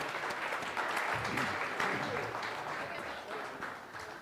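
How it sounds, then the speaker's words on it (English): A crowd claps in sustained applause, dense and steady, tapering slightly toward the end. "let's give Haunted Marysville another big round of applause"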